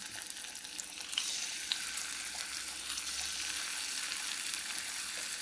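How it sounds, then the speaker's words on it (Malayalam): Masala-coated shrimp frying in a pan while being prepared for shrimp biryani, giving a steady, close hiss and crackle of hot oil that runs without a break from start to finish. "ഇത് വറക്കാം"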